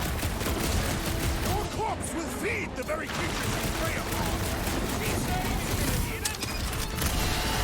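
In the Guardians of the Galaxy video game, Rocket fires grenades amid steady combat noise: a rattling stream of shots and mechanical clatter with a few whistling tones, fairly loud throughout, while a player talks over it.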